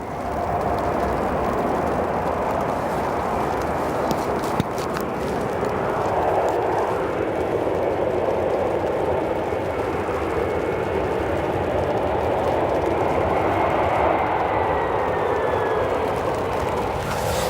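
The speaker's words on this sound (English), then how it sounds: "Let's listen to those reversers." A UPS Boeing 767-300's CF6 engines roar loudly and steadily under reverse thrust on landing at O'Hare, a broad rushing thunder that swells slightly midway.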